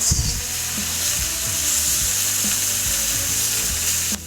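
Meat sears in a hot pan for an Italian American dish, giving a loud, constant crackling sizzle with a few soft scrapes and knocks beneath it and no talking.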